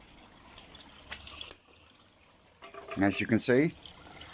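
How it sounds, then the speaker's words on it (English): Water from an aquarium shower set up beside a fish tank and skimmer runs with a steady, soft splashing hiss. It is clearest at the start, then someone talks over it. "shower's still running, no more leaks, all running tickety-boo."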